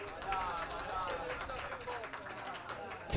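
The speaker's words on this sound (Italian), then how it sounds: "Gli applausi del pubblico stanno a sottolineare comunque la buona prestazione del numero 8 quest'oggi" Crowd applauding at an amateur Orvietana football match against Ellera, a steady broadband patter of clapping from spectators that holds throughout with no clear breaks.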